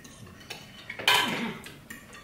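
A metal spoon clinks and scrapes against a plate during a meal of shrimp curry and potato fritters, a few light taps followed by one brighter clatter, close and alone with no talk.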